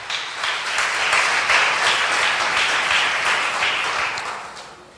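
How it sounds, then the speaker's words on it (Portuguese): A church congregation applauds with a dense, steady wash of clapping that swells early, holds, and fades toward the end, with no voices over it. "Dê um aplauso a Jesus"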